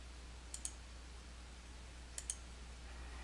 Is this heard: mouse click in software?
yes